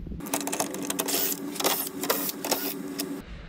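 A power tool whirs in short repeated bursts while backing out the 10 mm bolts along the top of the grille on a 2014-2019 Chevrolet Silverado, close and steady with brief high-pitched spins between.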